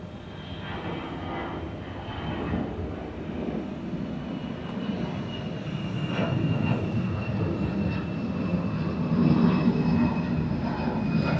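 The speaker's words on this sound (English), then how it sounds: "it was Delta 2579 from Baltimore Washington International Airport and Airbus A321" A Delta Airbus A321 airliner from Baltimore Washington International Airport roars past as a broad, steady jet rumble that swells slightly toward the end, heard at an Atlanta airport spotting position.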